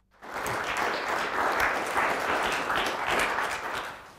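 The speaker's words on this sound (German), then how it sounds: "Vorstellen muss ich dich nicht mehr, aber es gibt einen Applaus." Steady audience applause fills a conference hall as a speaker is welcomed to the stage at an HbbTV industry event, sustained and dense for several seconds with no talk over it.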